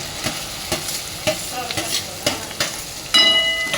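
Okra tossed into hot oil already seasoned with mustard seeds, cumin and asafoetida for a Kathiyawadi sweet-sour okra dish, sizzling steadily with a run of regular scraping stirs and a louder burst of frying near the end.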